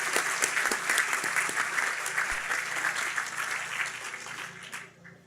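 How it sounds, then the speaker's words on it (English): Applause at an outdoor groundbreaking ceremony for a new building, a crowd clapping briskly and steadily with a few sharp knocks mixed in, fading out at the end. "So, what about a round of applause for John, who's done such a good job, the foundation."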